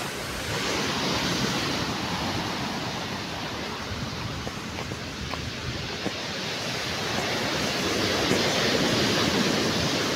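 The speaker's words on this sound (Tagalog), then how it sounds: "Dagko kayong bawod mga par. Dagko ang bayod." Big ocean waves roll onto Tangkaan Beach, a steady, loud wash of surf with no clear breaks and a swelling roar near the end, carrying no talk.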